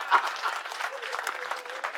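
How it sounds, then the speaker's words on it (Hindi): Audience applause at a Hindi comedy poetry event, a steady dense clapping from a crowd filling the whole moment without a break, fairly loud and continuous with no voices standing out. "तालियां बजाओ भाई"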